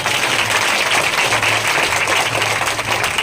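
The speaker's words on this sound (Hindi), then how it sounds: "तालियां बजाएंगे जोरदार।" A Hindi Sunday church congregation claps loudly and steadily, dense applause filling the room from start to finish with no pause.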